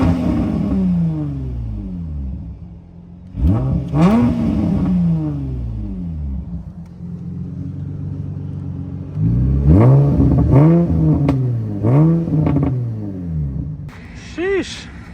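A twin-turbo Nissan 350Z pulls hard through repeated rising revs and gear changes, a loud close engine sweep swelling and dropping several times, with a voice talking over parts of it.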